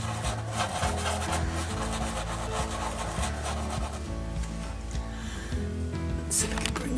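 Acrylic paint worked into a canvas with a brush, yellow and tan tones being rubbed in, giving a steady close scrubbing and rasping texture that continues without pause.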